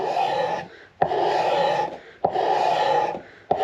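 A scraper shaving the wooden neck of a 1937 Martin D18 acoustic guitar, three long, steady rasping strokes with brief pauses between them, close and alone.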